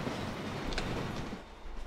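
A train passes in the video game Hitman 3, a brief rolling rumble with faint clickety-clack of wheels, fairly quiet and fading at the end.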